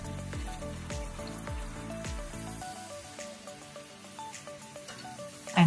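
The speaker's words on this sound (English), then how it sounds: "Fry for a minute." Crispy black rice puri frying in hot oil, with a bubbling sizzle and a rhythm of soft popping bursts, fairly loud at first, then fading to lighter crackles.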